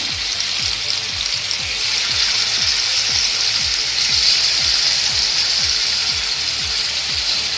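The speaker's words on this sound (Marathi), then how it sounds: "तेल गरम झालं आता यामध्ये चिकनचे पीसेस घालते मी" Chicken pieces fry in hot oil over a low gas flame, a steady close sizzle with a rhythmic scraping or stirring tick repeating about every half second underneath.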